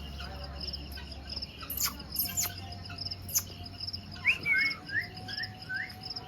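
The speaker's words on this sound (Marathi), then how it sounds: "हे बघ किती सारे लव बर्ड्स." Lovebirds chirping in an aviary, a scatter of sharp high tweets and short trilling calls at moderate distance over a steady insect-like background buzz, with faint low rumble beneath.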